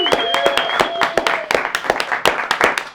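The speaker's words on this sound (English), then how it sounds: "Give a big round of applause for this team." A small group applauds a team at a live creators' event, quick irregular clapping close by over a faint lingering tone, with scattered voices mixed in.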